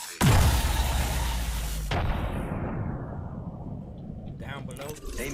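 A grenade in a first-person shooter detonates with a loud, sharp boom. It is followed by a long rumbling decay that fades over several seconds, and then faint scattered clicks.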